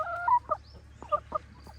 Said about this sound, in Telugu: ఇది తొలిసూరు పెట్ట అనమాట.